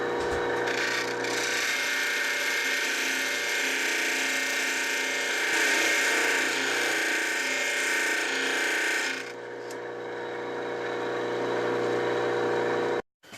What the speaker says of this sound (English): I've finished grinding this marble as far as I'm going to take it on the grinder